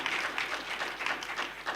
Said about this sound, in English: thank you very much for clapping hands without me saying clap hands